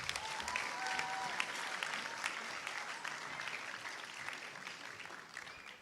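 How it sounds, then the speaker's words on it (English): Sustained audience applause at a 2024 graduation ceremony in Qatar, a dense wash of many hands clapping that stays fairly steady and slowly fades slightly over about six seconds, with faint crowd murmur beneath. "Round of applause for Amina."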